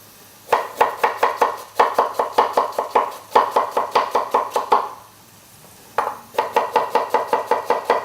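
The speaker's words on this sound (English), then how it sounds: "So by cutting the onion, so you wanna cut it like you wanna make a nice thick sauce" Quick rhythmic knife taps on a cutting board as an onion is finely chopped for spicy Korean tofu braise, coming in three fast bursts of even strokes with short pauses between, close and crisp.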